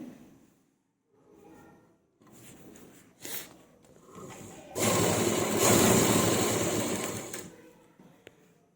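A sewing machine stitching the lining of a kameez, starting with soft handling and short mechanical bursts, then a loud sustained run of rapid stitching before slowing to a stop.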